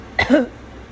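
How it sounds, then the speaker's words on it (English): A single close cough, short and throaty, then quiet room tone. "sorry for coughing on the microphone"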